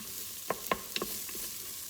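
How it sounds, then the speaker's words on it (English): Onions and garlic frying in coconut oil in a pan give a soft, steady sizzle, with a few light stirring scrapes and taps near the start. "our onions and garlic. Fry that until it's nice and soft and brown."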